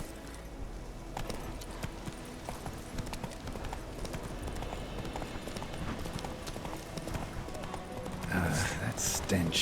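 A horse gallops in The Witcher 3 video game, steady hoof clip-clops running continuously at moderate loudness, with a louder burst of movement near the end.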